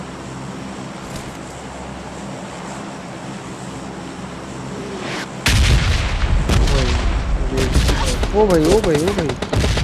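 Gunfire crackles in PUBG Mobile Lite, quiet at first and then erupting into loud, dense bursts of rapid shots, while a man calls out over the shooting.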